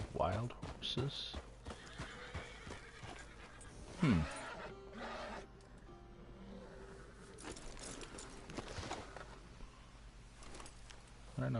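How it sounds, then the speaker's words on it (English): Wild horses in the video game Red Dead Redemption 2 neigh and whinny in several sharp bursts, mixed with clip-clopping hooves and a low background hum, with a voice talking over parts. "Those wild horses."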